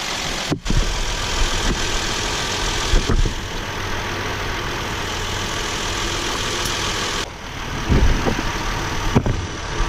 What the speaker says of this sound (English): motor's still running